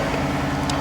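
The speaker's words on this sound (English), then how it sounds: "Let y'all hear that Coyote motor." A Whipple-supercharged Ford F-150 pickup, stock 5.0 Coyote V8 built to about 775 hp, runs with a steady, close, loud low rumble for under a second, with no talk.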